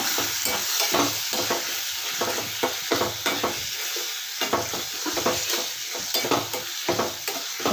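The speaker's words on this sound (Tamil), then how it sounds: "மஞ்சள் தூள் வந்து தேவையான அளவாக ஆட் பண்ணிக்கோங்க மிளகாய் தூள் தேவையான அளவாக ஆட் பண்ணிக்கோங்க நல்லா மிக்ஸ் பண்ணி விடுங்க" Turmeric and chili powder are stirred into a sizzling peanut and broad bean curry, with loud rhythmic spoon scrapes against the pan over a constant close frying hiss.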